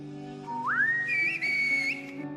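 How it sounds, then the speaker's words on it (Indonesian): A tribal love whistle sounds as one clear tone that slides sharply upward, then holds with small wavering bends before fading, over a faint steady background drone. "Gimana bunyi siulannya ya kalau mereka lagi menyatakan cinta?"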